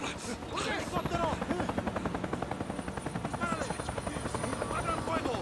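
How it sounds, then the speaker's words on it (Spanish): Helicopter in the video game Days Gone, a loud rhythmic rotor chop throbbing steadily throughout, with game voices shouting over it. "¡Oye, helicóptero!"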